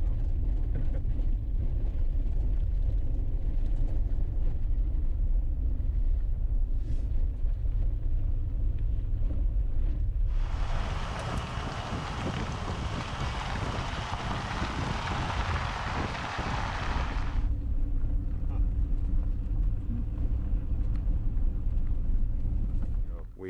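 A vehicle towing a cargo trailer along a rough off-road track, with a continuous loud low rumble and rattling, and a burst of broadband roar like wind or gravel in the middle stretch.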